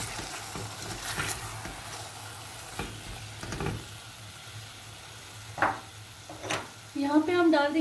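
Chopped tomatoes stirred into sizzling chicken karahi in a pan, with a steady fry hiss, scraping strokes of a spoon against the pan, and a voice speaking briefly near the end.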